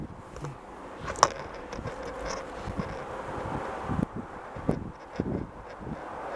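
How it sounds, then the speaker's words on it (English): Strong wind gusts roar steadily around a white pine during a snowy winter tree climb on a rope, with rustling and a few sharp knocks rising above the broadband rush. "It's really snowy, super windy, not super cold today."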